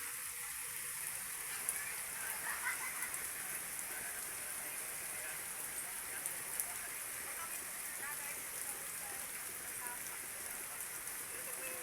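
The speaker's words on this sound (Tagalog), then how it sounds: "Maulan na, maulan na." Steady rain falls on surfaces in a dry, parched garden after a long drought, a constant even hiss with no pauses, moderately close and fairly quiet throughout.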